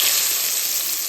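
A steak hits a hot grill beside shrimp and olive oil, giving a steady, bright, loud sizzle with no pauses, close up and without talk.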